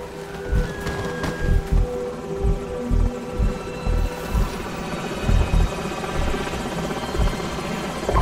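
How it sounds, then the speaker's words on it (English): Helicopter rotors thump steadily and loudly throughout in the video game Call of Duty: Modern Warfare, a continuous rhythmic whirring chop with a dense mechanical roar, heard close with no voices. "Enemy helicopters."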